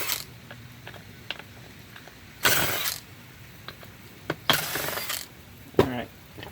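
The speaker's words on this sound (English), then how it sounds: "You take a few of these screws out." A T8 screwdriver backs screws out of a hard drive being torn down for scrap metal, with soft clicks and ticks and a few louder metallic scrapes and clatters, close and intermittent.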